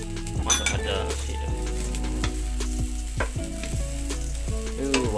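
Fried anchovies and rice for nasi goreng cencalok are stir-fried in a hot pan, with steady close sizzling and repeated scraping and clinking of a metal utensil against the pan.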